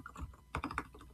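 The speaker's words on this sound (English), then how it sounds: "I hate typing live." Quiet, close clicks of fingers typing on a computer keyboard come in short bursts, a few soft taps and then a quick cluster of keystrokes, with no voice.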